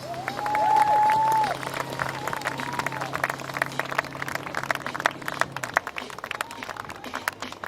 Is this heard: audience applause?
yes